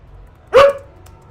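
A single sharp bark from a dog at home rings out once, loud and close, in an otherwise quiet room.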